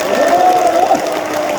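Steady applause from a crowd of party members at a People Power Party members' convention, a dense continuous patter of clapping that holds evenly at moderate loudness throughout.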